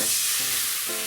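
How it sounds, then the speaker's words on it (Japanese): Sake splashed into a hot frying pan still coated with juices from grilled chicken tsukune, giving a loud, steady sizzle that flares again near the end, with no voices. "じゃあここにまずお酒を大さじ2杯、まあ結構跳ねると思うけどね"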